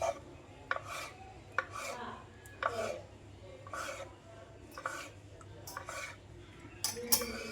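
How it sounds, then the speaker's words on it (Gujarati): Knife chopping steamed palak methi muthiya into round pieces on a board, a steady series of close, crisp cuts repeating about once a second, each one a short scraping tap. "મૂઠિયાને આપણે આવી રીતે કટ કરી લેશું"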